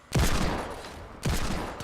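Two sharp, loud hunting rifle gunshots in the Fortnite Battle Royale video game, about a second apart, each with a booming crack and a short decaying tail.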